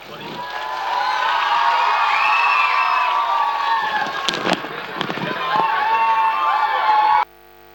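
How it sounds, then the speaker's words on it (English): Audience at a school annual fun show breaks into sustained applause and cheering, a dense crowd roar lasting several seconds with a few sharp claps and shouts standing out before it cuts off abruptly. "Give her a huge round of applause."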